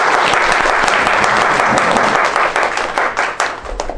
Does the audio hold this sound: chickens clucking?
no